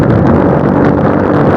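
A cheap aftermarket exhaust (knalpot) fitted to a standard motorcycle roars loudly and close, a continuous rough, broadband rumble with no pauses or talk.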